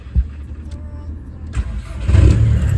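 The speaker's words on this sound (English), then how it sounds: "So what we're going to do, we're going to run the engine" A modified car's engine turns over around midway and settles into a steady, fairly loud running rumble that continues to the end.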